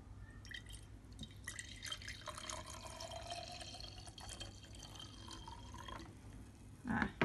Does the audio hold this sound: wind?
no